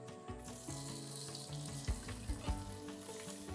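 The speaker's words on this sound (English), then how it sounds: "You can hear the sizzle." Ginger slices and mushrooms sizzle in a hot pot for Pen Cai, a loud, continuous close frying hiss punctuated by a few sharp knocks of stirring.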